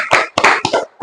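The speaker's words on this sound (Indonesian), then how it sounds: "Tepuk tangan buat Haikal" A few children in a classroom clap for a student, loud and close: four rough bursts of clapping in quick succession, uneven and short.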